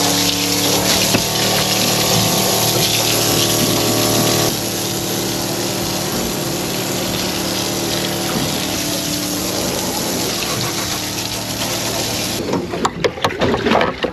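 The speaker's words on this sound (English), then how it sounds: "Good example of why the deck wash is good." A boat's deck wash pump sprays water across a fishing deck to rinse off cobia blood, a loud, steady rushing gush with pump drone that shifts partway through and ends in spattering.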